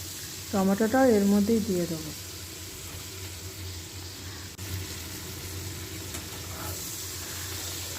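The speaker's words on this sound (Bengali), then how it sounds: "আদা রসুন টমাটো, এই যে আদা রসুনটাও এর মধ্যেই দিয়ে দেবো, ভাজা ভাজা করে নেবো" Ginger, garlic and tomato frying in a pan for paneer masala produce a soft, steady sizzle. A voice speaks briefly near the start over it, and a faint clatter is heard midway.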